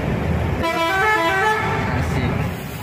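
A bus's musical telolet horn plays a loud, multi-note melodic toot near a tunnel in Makassar, lasting about two seconds over steady traffic rumble.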